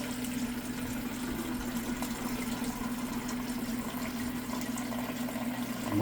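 Water runs steadily into a soup pot with a continuous rushing hiss over a low hum, holding an even level for several seconds.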